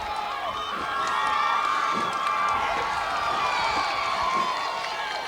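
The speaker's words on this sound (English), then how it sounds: "The crowd's really getting into this game, folks." Crowd at a high school football game cheering loudly and continuously, a broad roar of many voices with shouts and whoops rising over it, sustained throughout.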